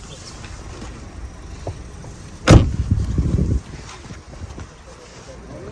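A car's power window whirs briefly: a sharp click, then about a second of motor hum, in an otherwise quiet interior.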